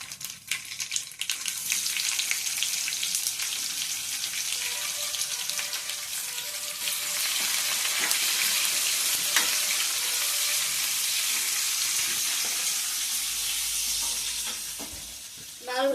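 Crushed shallots and onions fry in a pan with a continuous crackling sizzle, a few sharp clinks and stirring sounds at the start and a brief knock at the end, no talking.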